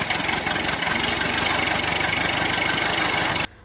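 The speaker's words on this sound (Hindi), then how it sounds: "यहाँ पर 3 गुंडे ट्रैक्टर से जा रहे होते हैं" A tractor engine idles with a loud, steady rhythmic chugging and knocking throb, close by, then cuts off abruptly near the end into silence, with no voices.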